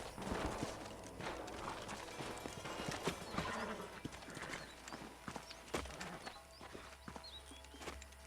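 Horse hooves clip-clopping at a slow, uneven pace in the video game Red Dead Redemption, fairly quiet, with scattered clicks and a soft low hum beneath.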